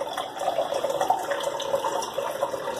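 Soda water poured from high into a chocolate egg cream, a steady rushing splash with fizzing hiss throughout, close and continuous.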